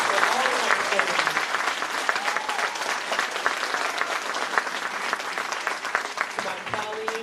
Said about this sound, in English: How about one more round of applause for all of our performances?